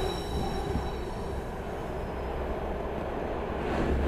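A train in the VR video game Here They Lie rolls along with a continuous dense rumble and hiss, plus faint high squealing, loud and close throughout.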